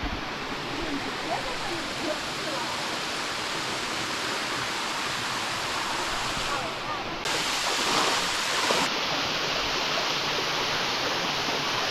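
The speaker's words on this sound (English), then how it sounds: "we just walk down to the bottom here and we walk up this waterfall" A waterfall in Thailand roars as a continuous, loud, broadband rush of falling water that stays steady and close throughout.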